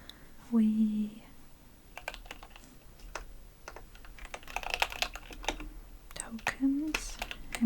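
Keys clack on a computer keyboard while someone codes, giving a steady run of close, soft taps with a hushed, whispered voice at the start and near the end.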